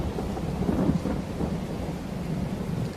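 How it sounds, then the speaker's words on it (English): Steady rain falls during a thunderstorm in the video game Farming Simulator 22, a dense continuous hiss with low thunder rumbling underneath and swelling briefly, with no talking. "all this rain is good for my wind turbine. It is stormy."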